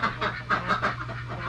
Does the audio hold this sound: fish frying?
no